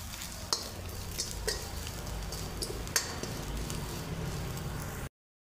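Ingredients dry-roasting in a pan for a Maharashtrian peanut amti, with a spoon stirring them: a soft, continuous sizzle broken by several scraping knocks. The sound is close and fairly quiet, with no talking, and cuts out abruptly at the end.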